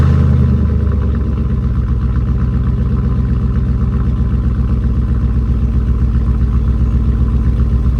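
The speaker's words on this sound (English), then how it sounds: "I kind of want to start the video by doing a quick cold start because I really like the way that this engine and exhaust sounds" A 1997 Chevy K1500 pickup engine cold-starts, a brief cranking catch settling into a loud, steady, rumbling idle with a deep throbbing exhaust note that holds unchanged to the end.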